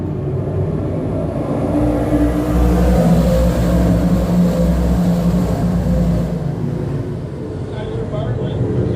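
A pack of 358 modified race cars thunders around a speedway during a feature race, a loud, steady engine roar that swells and stays dense throughout.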